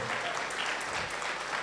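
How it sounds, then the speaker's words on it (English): A graduation crowd at a cybersecurity training ceremony claps steadily and densely throughout, a sustained wash of many hands with no breaks, heard fairly close. "A round of applause until she gets here."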